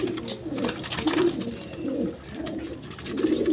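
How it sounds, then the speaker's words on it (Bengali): Soft, repeated cooing of fantail pigeons close by, low throaty calls rising and falling in a steady rhythm. "এক পেয়ার ফ্যান্টাল কবুতর আছে দেখেন"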